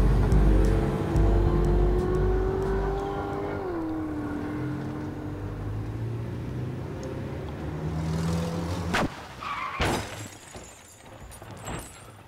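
Car crash in the video game The Final Station: a steady engine drone shifts pitch, then a sudden loud impact with shattering and scattered clanks trailing off.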